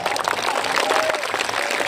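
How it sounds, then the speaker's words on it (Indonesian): An audience applauds at a humorous Islamic sermon by KH. Anwar Zahid, a dense, steady burst of many hands clapping together throughout. "tepuk tangan nggak apa-apa"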